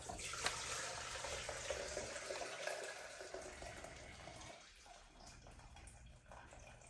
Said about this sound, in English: So we're going to pour the juice off.